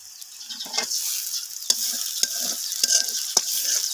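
Spices being stirred into fish roe frying in a pan, with chili and turmeric powder added: a steady close sizzle broken by several sharp spatula scrapes and clacks against the pan.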